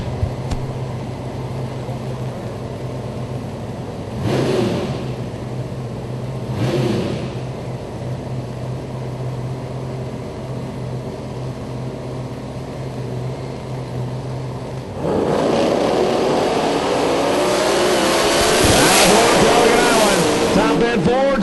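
Drag racing cars make passes at the Yellow Bullet Nationals. A distant engine hums steadily with two brief rising swells, then a loud, sustained roar builds and holds near the end, with an announcer talking over it.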